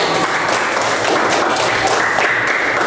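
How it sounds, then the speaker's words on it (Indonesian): Students in an eighth-grade class clap together after a group presentation, a short, steady round of applause in a room. "Boleh dong tepuk tangan."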